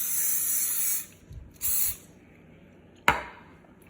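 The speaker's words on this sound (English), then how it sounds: "I'm going to just spray these with canola spray" Canola oil cooking spray hisses from an aerosol can onto baking pans in a home kitchen, a long burst and a shorter second burst, followed by a sharp metallic clack of the pan.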